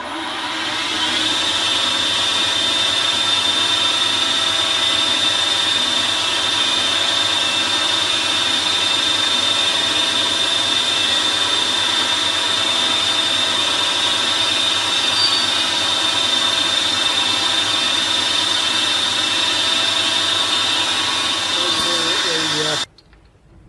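A steady, high-pitched power drill whine boring into a carburettor runs continuously for over twenty seconds, loud and close, then cuts off abruptly at the end.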